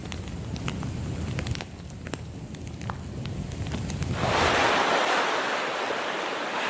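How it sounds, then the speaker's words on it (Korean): Ocean waves, with a low rushing surge that swells into a loud broad wash of surf breaking near the listener, alone. "파도 소리, 바다의 파도 소리."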